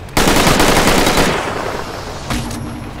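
Automatic gunfire in DeathGarden: BloodHarvest, a loud, close burst of rapid shots that thins out and then picks up again briefly at the end, with no speech.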